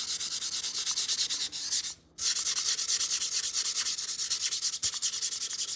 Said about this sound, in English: Once it hits the PLA, it makes a real saw sound.